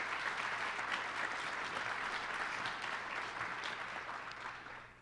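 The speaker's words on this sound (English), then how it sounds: "Let's give them a round of applause for being here today." Sustained applause from a conference audience, steady dense clapping that holds for several seconds and tapers slightly at the end.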